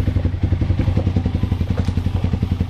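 A CSC TT250 motorcycle engine idling, noted as running slightly rich: a steady, low, thumping single-cylinder putter with even rapid pulses, close and loud, with no talk over it.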